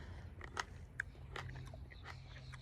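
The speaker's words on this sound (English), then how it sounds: "Excuse my chewing." Someone chews a fresh garden cherry tomato of a new variety, heard as soft, close, irregular wet bites and mouth sounds, faint against low background noise.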